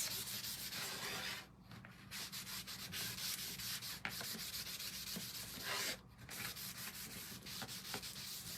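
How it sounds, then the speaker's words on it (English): A cloth buffs paste wax off a waxed wooden surface in continuous close rubbing strokes, a steady soft swishing with two brief pauses and no talking. "even though I waxed it good, you still got to buff it off"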